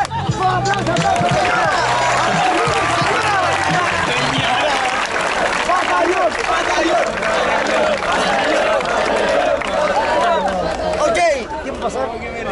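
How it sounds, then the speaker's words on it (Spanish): A rap battle crowd at Viña del Mar claps and cheers in a loud, continuous roar mixed with chatter and shouting voices for about twelve seconds before fading. "¡Un aplauso, aplauso!"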